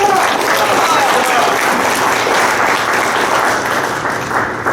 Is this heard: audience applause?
yes